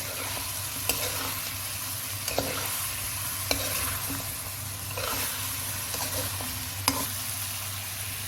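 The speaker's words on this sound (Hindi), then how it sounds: "अब हम इन्हें अच्छे से मिक्स करेंगे।" Mutton being mixed and stirred in a pot, a steady background of sizzling with a handful of sharp scrapes and clicks of the spoon spread through, no talking.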